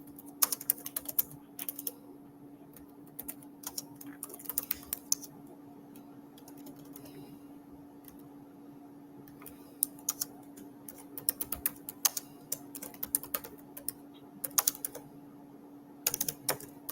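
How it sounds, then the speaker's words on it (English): Keys on a computer keyboard tapped in quick irregular bursts over a steady electrical hum, some flurries dense and others sparse, with brief pauses between them; fairly close and moderately loud, no voices. "Let me type this in."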